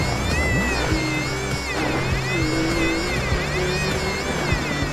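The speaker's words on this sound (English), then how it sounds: "Car's making a weird noise." Engine of a rally car in the DiRT Rally 2.0 video game, a steady droning tone with a wavering pitch that sounds odd, held loud and continuous throughout with no speech.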